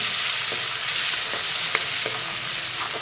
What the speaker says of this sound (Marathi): 1 मोठा टमॅटो आहे, तो चांगला बारीक चिरून घेतलेला आहे, तो मी फोडून घेत आहे।